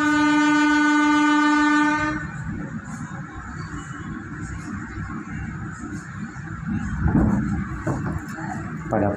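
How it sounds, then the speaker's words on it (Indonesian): A Pasundan New Generation passenger train pulls away from platform 2 at Cibatu station, opening with a loud, steady horn blast for about two seconds, then the low rumble and rhythmic clatter of the moving cars. "Pada pukul 12:36 kereta api Pasundan New Generation kembali diberangkatkan dari jalur 2 stasiun Cibatu."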